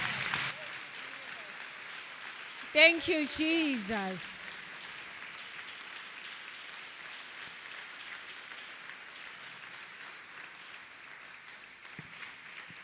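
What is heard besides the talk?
congregation clapping hands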